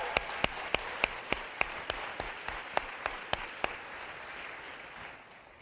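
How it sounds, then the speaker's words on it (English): Audience applause at a youth-focused national conference plenary, a steady wash of clapping with several sharp, louder individual claps standing out, fading toward the end. "another round of applause?"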